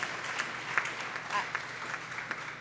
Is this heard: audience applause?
yes